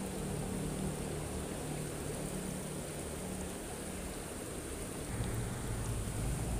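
Steady rain falls in a dense, even hiss with a low rumble underneath, continuous and fairly close at an outdoor riverside fishing spot.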